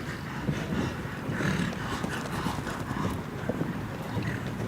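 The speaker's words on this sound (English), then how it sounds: "You can hear Obelisk puffing as he comes past the cameras there." Rhythmic hoofbeats of a horse galloping past in the riding event of a modern pentathlon World Cup in Kecskemét, Hungary, with heavy breathing and puffing mixed into steady outdoor noise and a quiet crowd.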